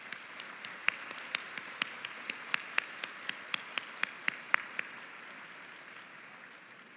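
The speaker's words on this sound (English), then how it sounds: "let's give them a round of applause" At a Simmons graduate commencement ceremony, scattered applause for security and food service staff comes as faint, distinct individual claps in an irregular patter that thins out and stops after a few seconds, leaving quiet room tone.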